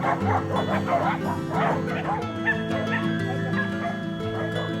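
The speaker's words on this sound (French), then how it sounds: "une horde de chiens sauvages traversant bruyamment ce petit coin de paradis" A pack of wild dogs barks and yips noisily near a Colombian coastal spot by Cartagena, repeated bow-wow barks and whimpers over a steady droning background, fairly close and continuous.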